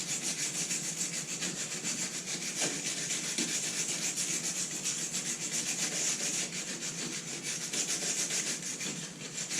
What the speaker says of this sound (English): I'm taking this wire brush and I'm hitting the areas that have cracks